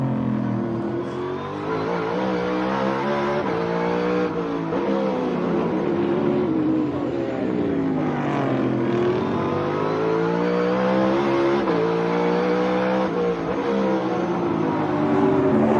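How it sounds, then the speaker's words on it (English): NASCAR Cup Series race cars roaring around the track, engines rising and falling in pitch as they shift through gears, brake and accelerate again, loud and continuous without commentary. "So cool just to sit and listen to the cars go through the gears and brake and stop and go."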